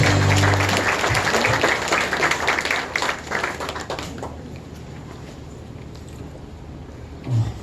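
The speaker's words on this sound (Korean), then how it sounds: "큰 박수로 환영해 주시기 바랍니다." Loud, close applause from mourners welcoming a speaker at a memorial ceremony, strong at first and then thinning into quieter scattered clapping over a low room rumble, with a brief bump of handling noise near the end.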